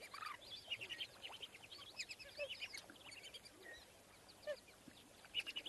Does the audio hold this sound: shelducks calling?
yes